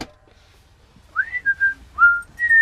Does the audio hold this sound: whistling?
yes